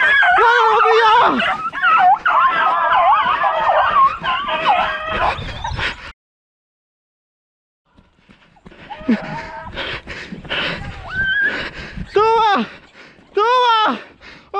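Outdoors on a hare hunt, a greyhound that has just caught a hare gives short yips and high whimpers, mixed with excited human voices. A brief silent gap falls in the middle.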